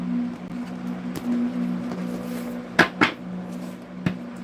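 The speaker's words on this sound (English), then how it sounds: "Get you some good shuffles in" Rider-Waite tarot cards shuffled by hand close up, a few sharp riffling bursts and soft card slaps over a steady low electrical hum, fairly quiet overall.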